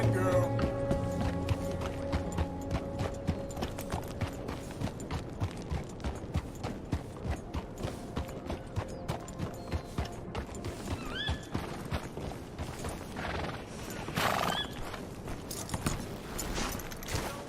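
Horse hooves clip-clop steadily in Red Dead Redemption II, with a clear whinny and neigh near the start, close and fairly loud, with game voices talking over the hoofbeats.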